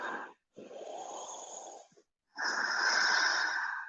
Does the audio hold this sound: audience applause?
no